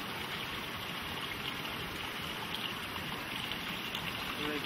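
Water from a waterfall pours over an immense stone wall in the Llanganates, a steady, fairly soft wash of rushing noise that holds unbroken for several seconds with no other sounds.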